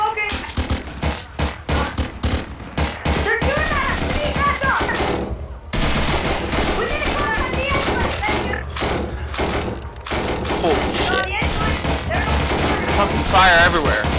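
Video game firefight at a police barricade: dense, continuous automatic gunfire and rapid shots pound almost without pause, loud and close, with a brief lull midway and a voice shouting over the barrage.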